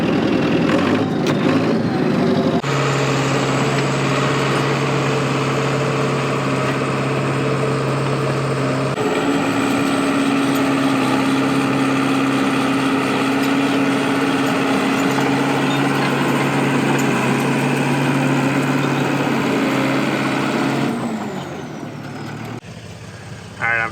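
A John Deere model 40 crawler running steadily, a close, loud engine drone holding a constant rumbling tone for over twenty seconds before tapering off near the end.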